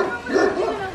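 A prairie dog gives a single short, sharp yipping bark, close and fairly loud, lasting about a second with no talk over it.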